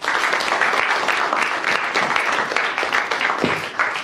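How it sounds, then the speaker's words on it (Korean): Classroom of students clapping together to welcome a new transfer student from a science high school, a dense, steady burst of applause throughout with no talk. "그런 의미로 우리 다 같이 환영의 박수."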